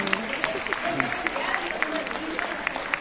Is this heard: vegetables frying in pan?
no